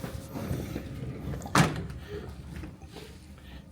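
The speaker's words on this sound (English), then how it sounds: "let's close the door" A door on a Bulgarian passenger train is pulled shut, giving one sharp thud against the steady rumble of the moving carriage, with no talk.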